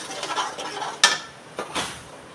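A pan of shahi paneer being stirred after a ground paste is added: scraping and soft stirring, then a sharp metallic clink of spoon against pan and a couple more knocks. Close, with no talk.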